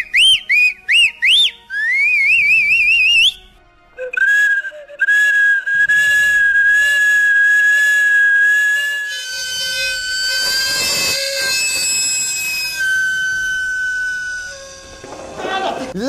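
A man whistles in imitation of a street sweet potato vendor's steam whistle, giving shrill rising and wavering blasts followed by a long sustained tone, with talk and background noise later.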